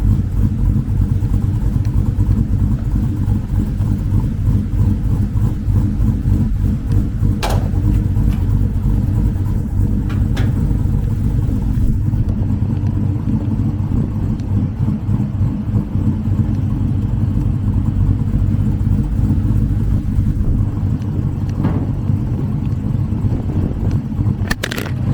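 A Chevrolet Silverado pickup's engine rumbles steadily while driving, a loud, close low drone with slight swells in revs and road noise underneath, no talking.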